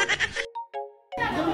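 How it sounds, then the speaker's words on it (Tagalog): At a dairy farm near Kota Kinabalu, a goat lets out a short, nasal bleat in a brief gap between bursts of nearby human voices. "Kambing man yan, Madam. Hindi man yan baka."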